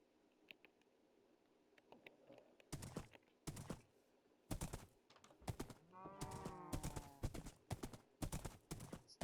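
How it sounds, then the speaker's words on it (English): Horse hooves clip-clop steadily in the Minecraft video game during riding, loud and close, with a brief horse whinny partway through. "This isn't the fastest horse, but it's got a pretty good jump"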